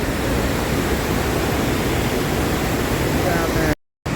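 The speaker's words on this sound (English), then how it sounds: "Hofferfell Waterfall, here on July 2nd, 2022" Hofferfell waterfall in Iceland's Golden Circle roars as a steady, loud, broadband rush of falling water, continuous and close, cut by a brief dropout near the end.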